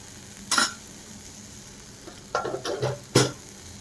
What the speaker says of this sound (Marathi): आणि आता चांगलं फ्राय होऊन देणार.